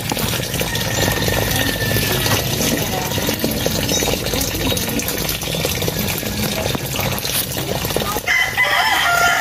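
Chickens cluck and a rooster crows from a coop behind a house, the calls loud and repeated over a busy outdoor background with running water, ending in a quieter stretch.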